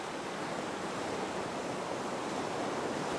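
Ocean water washes against the side of a ferry boat in a steady, soft hiss of surf and wind, faint and continuous with no distinct wave breaks.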